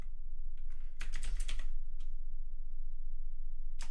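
Computer keyboard typing while setting up a Minecraft Bukkit server plugin, a dense cluster of close key clicks in the middle with a few scattered single taps before and after, no talking.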